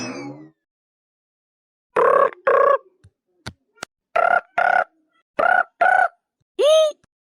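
A phone rings in repeated double bursts, loud and close, with a final warbling tone at the end and no talk in between.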